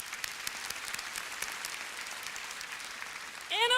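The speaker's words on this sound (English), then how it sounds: "Give yourselves a round of applause." Graduation audience applauding at a high school ceremony, steady crowd clapping at moderate distance that holds level and ends with a short whistle or squeak near the close.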